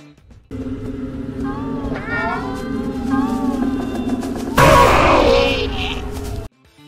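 A Smile Cat monster from the Poppy Playtime video game meows in drawn-out, wavering cries over a steady low rumble, growing into a loud, harsh caterwaul near the end.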